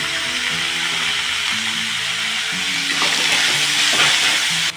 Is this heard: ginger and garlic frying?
yes